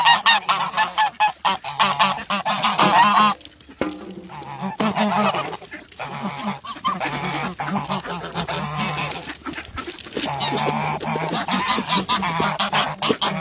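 A flock of geese honks loudly and repeatedly nearby, overlapping calls coming in rapid bursts with short pauses.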